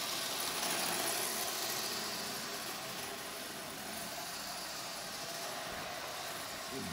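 A Lionel model trolley rail inspection motor runs steadily on track, giving a continuous close mechanical hum and whir with a slight fluctuation, heard alone without talk.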